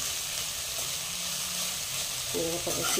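Fenugreek leaves sauté in ghee for methi matar malai, producing an even, close, steady sizzle with faint stirring. A brief voice sounds near the end.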